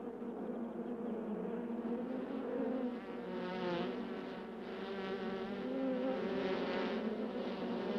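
Honeybee hive after the queen is removed, a dense, continuous buzzing drone of many bees with slowly swelling and fading waves, fairly close and without voices.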